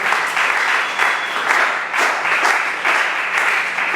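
A church congregation at a French-language worship service breaks into sustained applause and cheering, steady and full, swelling in rhythmic waves for the whole stretch.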